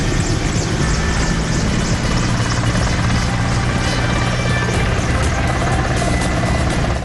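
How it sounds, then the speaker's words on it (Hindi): An air force helicopter flies overhead showering flowers, its rotor chopping loudly and continuously throughout with a steady thudding drone and no voices. "फिर वायुसेना के हेलीकॉप्टर ने फूलों की बारिश की"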